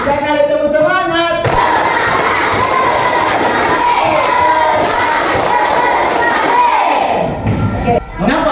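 A classroom of students doing rhythmic spirit clapping, a loud burst of voices shouting together with massed clapping and thumps that swells suddenly and roars on continuously before trailing off at the end.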